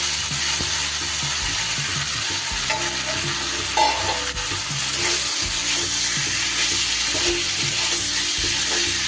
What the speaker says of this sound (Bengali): এবার দিয়ে দেবো আমি ভেজে রাখা পেঁপেগুলো।